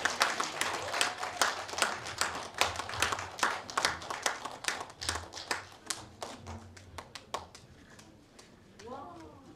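An audience at a Korean folk song competition awards ceremony claps steadily, with dense overlapping hand claps that thin out toward the end.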